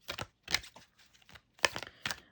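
Oracle cards from a slightly oversized, slippery deck being shuffled by hand: several quick crisp riffling bursts with short gaps, close and clear, with no talking.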